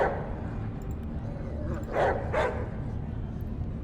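A dog in the video game ATOM RPG gives two barks over a steady background hum, with some talking in the scene.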